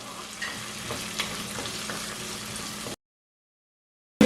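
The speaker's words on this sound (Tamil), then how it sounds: "இப்போ இதை மிக்ஸ் பண்ணி போட்டு ஒரு 3 நிமிஷம் வதங்க விடுவோம்" Green chilies and curry leaves are sautéed in a pan for fish patties, a steady close sizzle of frying oil for about three seconds, then silence and a brief loud knock at the end.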